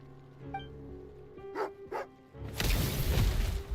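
A dog barks twice in quick succession within Genshin Impact, two short sharp yips over a low game music bed, followed by a loud rushing burst of noise.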